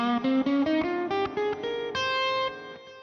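A clean guitar picks a short Phrygian scale run, single notes stepping upward in quick succession before ringing out on the last few tones.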